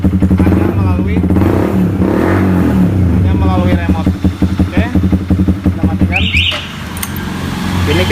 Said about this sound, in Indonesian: Jadi mesinnya bisa nyala hanya melalui remote